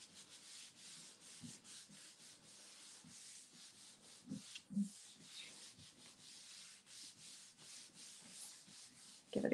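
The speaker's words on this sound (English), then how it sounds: "Give it a good rub, rub, rub." Paper is rubbed by hand onto a gel printing plate, giving soft, rhythmic scratchy rubbing strokes that repeat steadily at low volume, with a couple of slightly louder bumps.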